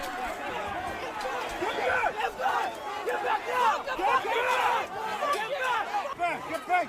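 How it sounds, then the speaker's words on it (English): A large, dense crowd surges and shouts outside the DNC headquarters glass doors as police are pushed back, with overlapping yelling voices and loud, agitated clamor throughout. "That's the police getting crushed by the crowd as they try to break through the glass doors of the DNC headquarters"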